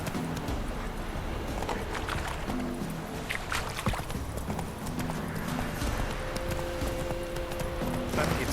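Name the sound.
horse Roach galloping in video game Witcher 3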